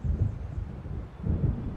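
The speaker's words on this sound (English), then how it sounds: "It seems there's a storm coming." Thunder from an approaching storm at a lakeside lodge in Alan Wake: two low, muffled rumbles roll in close together, with no voices over them.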